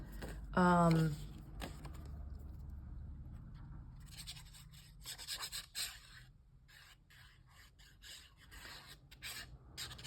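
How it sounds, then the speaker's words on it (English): Rough scratching and rubbing against paper while a snowflake stamped greeting card is being made, with short irregular scraping bursts after a brief tonal sound at the start; recorded close and fairly quiet. "Sorry for that scratching."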